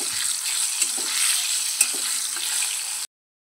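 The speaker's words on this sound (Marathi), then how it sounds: "बघा अशा पद्धतीने आपल्याला फ्राय करून घ्यायचं आहे तेलामध्ये।" Dried red chillies, slit down the middle, fry in hot oil with a steady, bright sizzle, broken by a couple of small pops and stirs before cutting off abruptly.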